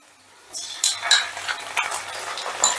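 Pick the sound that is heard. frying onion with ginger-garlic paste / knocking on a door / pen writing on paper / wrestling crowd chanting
frying onion with ginger-garlic paste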